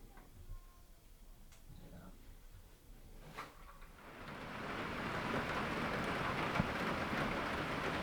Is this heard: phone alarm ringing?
no